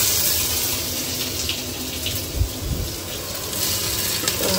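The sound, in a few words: frying crushed ginger in pan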